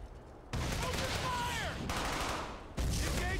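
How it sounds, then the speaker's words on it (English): Squad cover fire in the Brothers in Arms: Hell's Highway video game: sustained loud automatic gunfire bursts, cutting off briefly before resuming, with a faint voice underneath. "Give me some cover fire."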